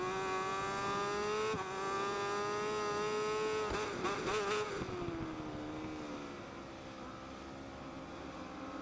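Racing motorcycle engine at Cadwell Park screams steadily through Coppice Corner, a high harmonic drone that surges with a brief burst of revving mid-clip, then settles into a lower, sustained note as the bike powers on; loud and close, no talk.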